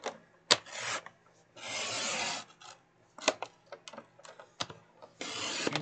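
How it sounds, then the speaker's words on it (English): A paper trimmer cuts pieces of paper for simple mini books. Several short, close sliding rasps are heard, each a swish of the blade lasting under a second, separated by quiet pauses with small clicks. "So let's bring in our trimmer"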